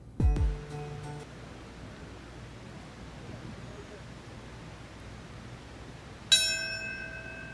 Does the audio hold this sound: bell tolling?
yes